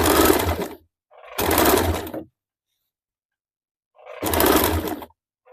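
Three separate bursts from a sewing machine attaching piping to blouse strips, each running about a second with silent pauses between, loud and close.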